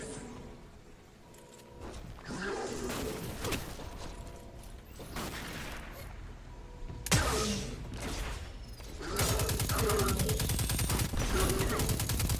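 Hand cannon fire in the Destiny 2 beta, with shots mixed into a busy combat soundscape of whooshes and clatter that grows into sustained, dense firing toward the end.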